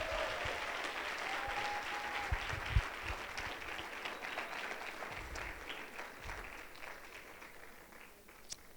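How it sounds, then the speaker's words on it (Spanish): A church congregation applauds during a Spanish-language service, a broad, steady wash of clapping that fades slightly toward the end, with a few louder claps standing out. "Si yo fuera usted, aplaudiera a mi amigo el apóstol."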